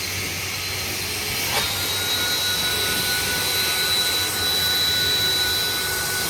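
A Husqvarna leaf blower runs outdoors during a cleanup, giving a steady loud whooshing roar with a faint high whine and no change over the whole stretch.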